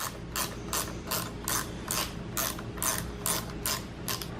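A hand ratchet tightens a bolt with about ten quick, even clicking strokes in a steady rhythm, close and clear, with no voices.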